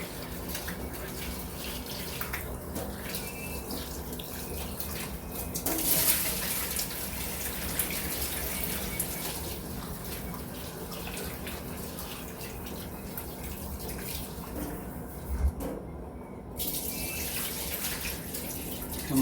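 Orange lentils are washed under running water in a kitchen vessel, a steady close gush of tap water pouring and splashing throughout.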